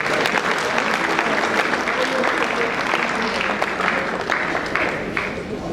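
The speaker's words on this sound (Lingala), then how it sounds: "Aidez-moi à acclamer pour cela." Sustained applause from a congregation at a funeral service, steady and loud throughout with a dense wash of clapping, voices mixed in underneath.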